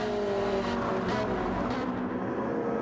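A Ferrari race car engine in Ultimate Racing League roars steadily at high revs, a continuous close drone with slight rises in pitch, and no voices over it.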